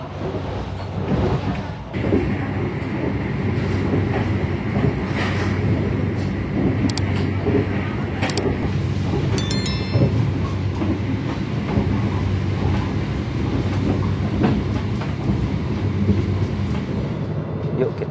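Inside the Purwojaya executive-class train, a loud steady rumble of wheels on rails runs throughout with rhythmic clickety-clack and occasional metallic squeals.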